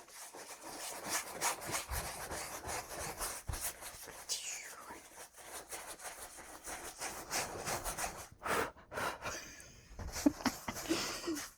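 Paintbrush scrubbing oil paint onto a black canvas, a close, rough, repeated bristle scraping in uneven strokes, with brief pauses and a faint whisper-like voice now and then.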